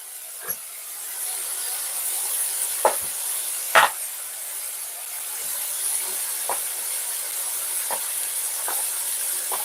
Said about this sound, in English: I'm just sweating off the beef and the onion